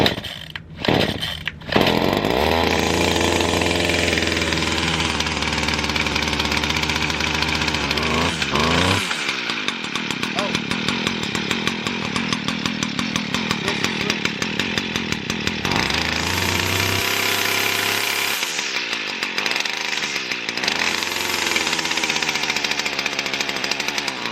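A newly bought pull-start weed wacker is cranked by cord outdoors, sputters briefly, then catches into a loud, steady two-stroke engine buzz that rises and falls with throttle over the clip.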